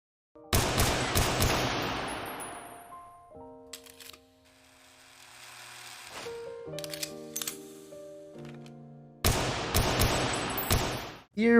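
Anime gunfire from Lycoris Recoil: sharp bursts of shots open the scene, then ringing tonal effects and music-like tones follow before another loud burst of shots near the end.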